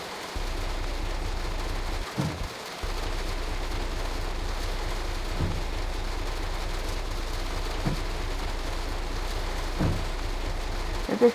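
Simulated rain in Train Sim World 3 on a London Charing Cross to Gravesend service: a steady hiss of rain on surfaces over a low train hum, with a few faint sharp ticks and a brief dropout, no talking.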